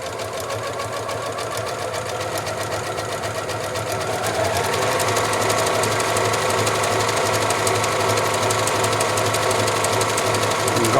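A Janome Memory Craft 6500P sewing machine stitches steadily and close up, its rapid needle rattle running without pause and growing a little louder partway through.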